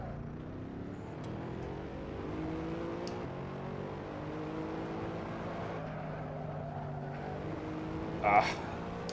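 Mercedes SLS road car lapping the Barcelona circuit, a steady engine drone with rising and falling gear-change harmonics throughout, heard from on board, with a brief louder burst near the end.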